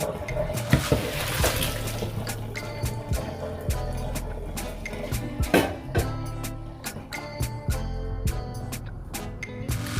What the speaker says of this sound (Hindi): हम इसका जो वाटर है वो इसको ड्रेन करेंगे।